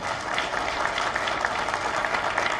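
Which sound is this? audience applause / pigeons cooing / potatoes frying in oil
audience applause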